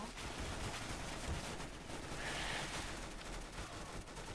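Gunfire in the video game CS:GO, steady rapid shooting that runs through the clip as a dense, continuous rattle, moderately loud and without any talk over it.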